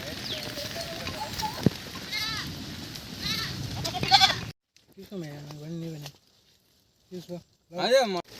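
Several sheep bleat in quavering cries, some overlapping, with outdoor noise at first and then clearer, separate calls against near silence.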